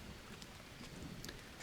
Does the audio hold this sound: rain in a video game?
yes